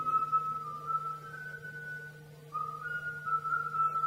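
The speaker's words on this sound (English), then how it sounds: "Listen to that kid whistle." A seven-year-old boy whistles a steady, clear tune played back from a recording, long sustained notes with a brief pause midway, over a low steady hum.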